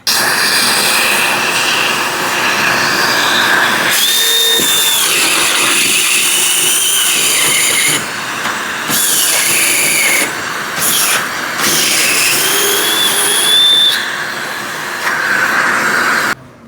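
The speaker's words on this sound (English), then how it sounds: "let's go ahead and turn the vacuum on and see about drilling a hole real quick" A loud, steady high-pitched whine of a power drill running continuously, boring a hole in wood with a vacuum running, with shifts in pitch as it cuts, close up.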